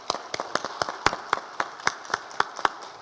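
Applause in a Korean church Sunday service welcoming new members, heard as sparse, evenly paced hand claps from a small group, fairly close and crisp, with no talking over them.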